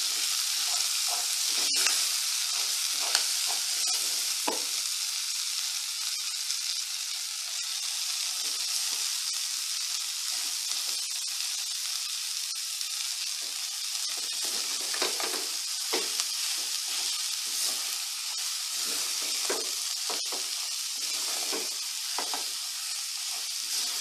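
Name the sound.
sautéing collard greens in a pan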